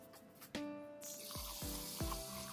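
Mung lentils fry in a hot pan with a sizzle that swells after a brief quieter start, broken by a few sharp knocks and ringing tones.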